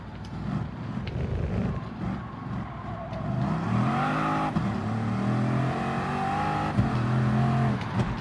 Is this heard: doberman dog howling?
no